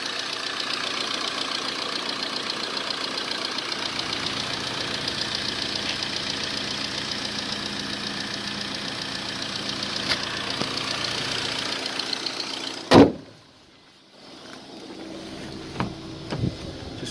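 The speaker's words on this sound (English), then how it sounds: "There we have the lovely 2-litre turbocharged petrol." Idling 2-litre turbocharged petrol engine of a 2016 VW Golf R 4Motion DSG, a steady low hum under the open bonnet, cut by a sharp knock near the end, then near silence with a few soft clicks.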